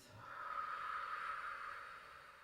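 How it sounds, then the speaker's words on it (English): A single slow, steady breath out through the nose or mouth during a yoga practice, a soft breathy hiss that swells and fades over about two seconds, with no speech. "and breathing out through your nose or your mouth."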